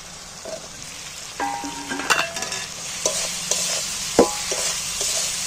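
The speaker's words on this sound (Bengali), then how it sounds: "এবার আলুটার মধ্যেই মশলাটাকে আরও কষিয়ে নিচ্ছি।" Fried potatoes stir-fried in a cooked-down tomato and onion masala, with a steady sizzle under frequent spatula scrapes and sharp metallic clinks against the pan, close and fairly loud, with no voices.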